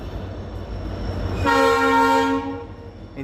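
At Firozpur, a locomotive being coupled to the new Firozpur–New Delhi Intercity sounds a long, loud horn blast over low station rumble, fading after about a second.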